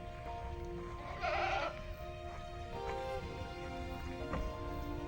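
Goats bleat inside a hay-filled farm shelter, a single wavering call standing out briefly over faint background noise, with a few fainter cries later.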